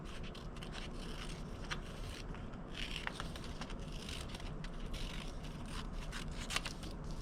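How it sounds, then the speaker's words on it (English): Scissors snip and scrape steadily through folded paper while cutting out a pair of rabbit ears, a close, continuous crisp rasp with quick repeated cuts and no talking. "So I'm going to take my scissors and I'm going to cut them out"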